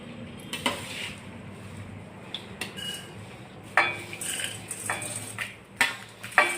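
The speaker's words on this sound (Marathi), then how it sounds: "मीठ मिरची मिसळण्यासाठी आता आपण कढईत घालत आहोत" A spoon scrapes and clinks against a kadhai while roasted poha chivda ingredients are mixed, with several sharp metallic knocks and rattling stirs at close range.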